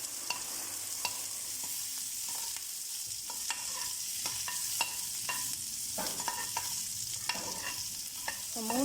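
Dried red chillies, chopped onion and mustard seeds fry in hot oil for a horse gram curry, giving a steady close sizzle with scattered pops and crackles and occasional stirring scrapes, no voices.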